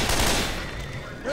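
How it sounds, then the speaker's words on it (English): Rapid gunfire bursts in the zombie shooter game Left 4 Dead 2, a short close volley of crackling shots that fades quickly. "Watch where you're shooting."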